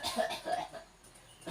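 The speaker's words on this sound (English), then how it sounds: "Okay, can you please cough?" A patient coughs during a thorax assessment, a few short soft coughs close by in a quiet room, with a brief throat-clearing quality.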